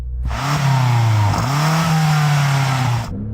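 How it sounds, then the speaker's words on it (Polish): A BMW M5 CS engine revs hard from idle, climbing quickly to a sustained loud roar held against a soft limiter at 4500 rpm, dipping briefly midway before cutting off sharply. "Zacznę od zwiększenia obrotów w BMW."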